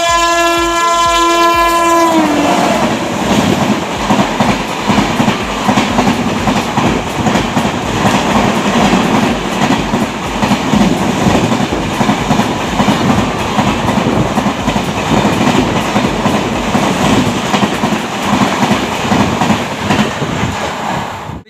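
Pawan Express, running between Jaynagar and Mumbai's Lokmanti Tilak, roars past at about 130 km/h, its horn sounding at first before a long loud rush of clattering wheels and rumbling coaches close by.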